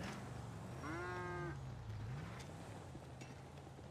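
A cow in the GTA RP video game gives a single low, drawn-out moo that bends downward over roughly a second, heard against faint wind-like background noise.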